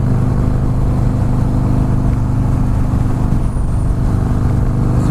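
A Harley Fat Boy S engine rumbles steadily while riding, a loud, low throbbing drone mixed with road and wind noise, continuous throughout.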